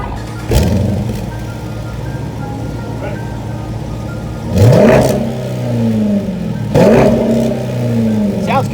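A deep Mopar muscle car engine idles loudly and revs hard three times through its exhaust, each roaring burst climbing in pitch before dropping back to a rumble.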